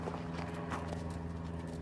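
Horse hooves clip-clop in a steady trotting rhythm, close and continuous, with no talking over them.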